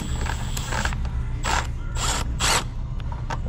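Ratchet wrench turning a bolt deep in the engine bay of a 2016 Ford Focus 2.0, a few close, sharp bursts of clicking that come in quick rhythmic strokes over a low background hum.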